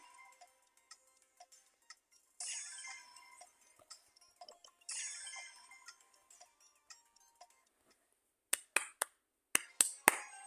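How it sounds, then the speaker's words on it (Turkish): A clapping sound effect from the mobile game Brawl Stars plays as short, sharp claps in small bursts near the end, after quieter game sounds and ticks. "Brawl Stars alkış sesi."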